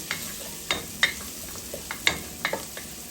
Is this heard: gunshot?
no